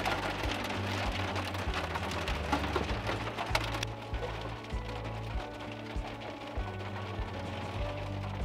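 Big hailstones pelt down in a dense, steady clatter of hard impacts, loud and close, continuing without letup; no one speaks.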